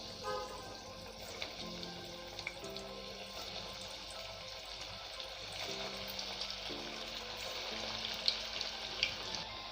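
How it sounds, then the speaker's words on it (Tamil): Raw banana pieces deep frying in hot oil, giving a continuous bubbling sizzle with occasional faint clinks and utensil sounds. "இப்போ நம்ம இதை சூடான எண்ணெய்க்குள்ளே போட்டு பொரிச்சு எடுத்துடலாம்"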